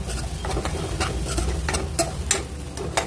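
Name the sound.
stirring chavali (black-eyed pea) masala with spices in pan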